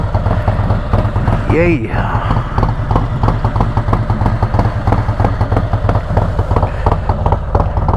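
A Harley motorcycle engine fires up and settles into a loud, steady, throbbing idle close by after sitting unused for about two weeks, with a brief cheer from a person over the running engine.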